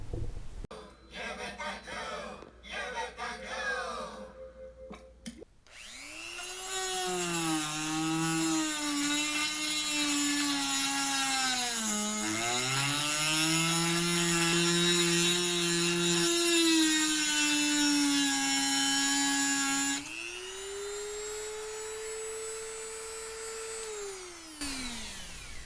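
A plugged-in power tool cuts a fan part from a Model T engine: a steady, loud whine that shifts in pitch as it bites and slows under load, runs for about fifteen seconds, stops, then starts again briefly after some earlier clattering.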